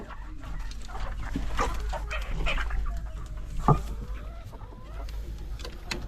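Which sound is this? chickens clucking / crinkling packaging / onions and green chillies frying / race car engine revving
chickens clucking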